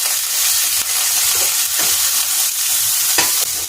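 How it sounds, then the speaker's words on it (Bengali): Eggplant pieces sizzle loudly in hot oil with chilli and garlic while a spoon scrapes and stirs the pan in short, irregular strokes, close up and with no talk. "এবার এই তেলেতেই বেগুনগুলো নাড়াচাড়া করে"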